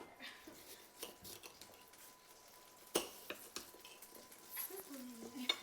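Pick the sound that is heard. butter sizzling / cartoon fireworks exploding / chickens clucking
butter sizzling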